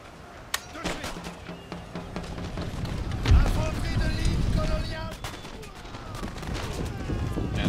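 Musket volleys and cannon fire in the strategy game Empire: Total War, a sharp crack early and then scattered shots with a heavy boom midway over a rumbling battle bed, with talk underneath.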